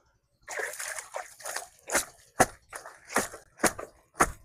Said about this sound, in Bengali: এখন আবার এই কাপড় চোপড় ধুইতে আছি